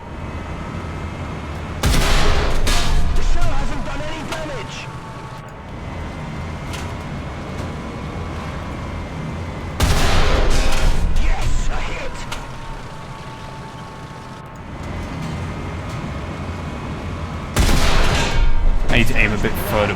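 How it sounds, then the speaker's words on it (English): Bursts of .50-caliber machine gun fire in the tank combat game War Thunder: three loud, rapid broadband volleys of a few seconds each, separated by quieter stretches of rumbling engine and battlefield noise. "I love the sound of the 50 cals"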